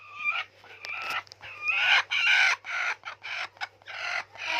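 Egg-laying hens on a dairy farm clucking in loud, close bursts, with a rooster's drawn-out crow mixed in, all over a faint low hum and no talking.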